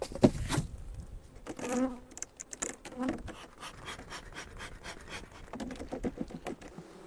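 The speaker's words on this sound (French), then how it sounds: "vous avez le même son, hein, caractéristique de quand une ruche est orpheline" Honeybees buzzing loudly in an open queenless, orphaned hive, close-up droning hum mixed with pattering and handling noises from the frames.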